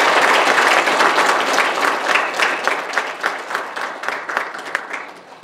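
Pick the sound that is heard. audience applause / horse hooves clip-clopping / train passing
audience applause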